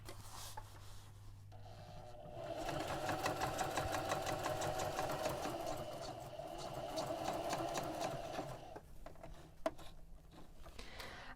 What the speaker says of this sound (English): I'm just sewing through a single layer of fabric.